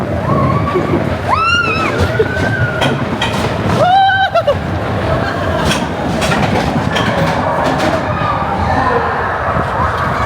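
The Incredicoaster roller coaster at Disneyland roars along its track with a constant rumbling, clattering ride noise, while riders' screams and shouts rise above it and voices are heard throughout.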